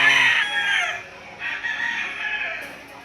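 Roosters crow loudly up close at a chicken market in Lipa City, Batangas, one drawn-out call after another, with clucking fowl in the background.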